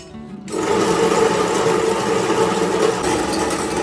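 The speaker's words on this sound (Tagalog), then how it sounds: "At pagkapalit ko nga ng talim ay agad-agad ko ng kinudkod ng niyog." A homemade scrap-metal coconut grater starts up after a brief quiet moment, then runs as a steady, loud, buzzing motorized whir while it shreds coconut.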